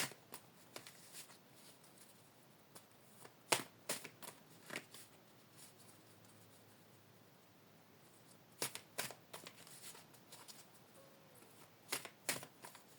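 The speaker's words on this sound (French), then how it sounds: "On va encore tirer quelques cartes." Tarot cards being shuffled and drawn for a reading: soft, close riffles and sharp little snaps come in scattered clusters over a quiet background, with no talking.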